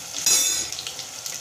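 Chillies and whole spices sizzling in hot oil in a pan for Punjabi kadhi, a close, steady crackle with a brief louder burst near the start and no talking.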